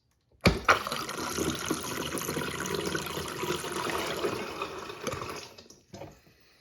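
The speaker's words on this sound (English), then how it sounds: "let's flush and see how it does" A Space Saver toilet flushing with a bowl coated in cinnamon, a sudden rush of water swirling loudly for about five seconds before draining away and tapering off, close and alone with no talk.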